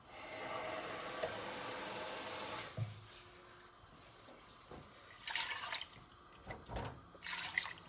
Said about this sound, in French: Je rajoute l'eau.